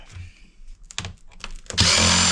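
A power screwdriver spins out screws from the metal panel of a POS machine, preceded by a few short clicks and handling knocks, then a loud sustained whir right up close.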